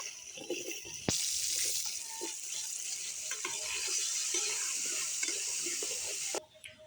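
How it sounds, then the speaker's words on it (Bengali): Potatoes hit hot oil in a pan with a sharp onset, then fry in a steady, bright hiss that runs for several seconds before cutting off abruptly, close and with no talking. "বন্ধুরা এবার আলু ভেজে নেবে"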